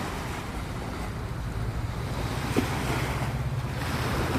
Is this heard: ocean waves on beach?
yes